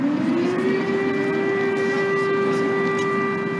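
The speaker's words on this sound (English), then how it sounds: "The air raid sirens are irregular now." An air raid warning siren wails over a city in Ukraine, a loud sustained tone that rises at the start and then holds a steady pitch, alone with no talk.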